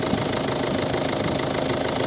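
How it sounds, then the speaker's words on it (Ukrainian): A steady 1.6-litre diesel engine in a 2010 Volvo V50 idles close by, a continuous low rumble with a faint knocking texture and no voices. "Ось робота двигуна цього надійного перевіреного двигуна дизельного"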